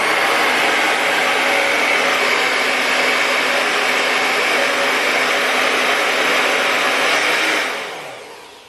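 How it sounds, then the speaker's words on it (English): A hair dryer fitted with a diffuser blows a loud, constant whooshing roar while drying curly hair, running steadily before winding down in the last second. "One more tip for diffusing is actually wiggling the diffuser when it's at your roots."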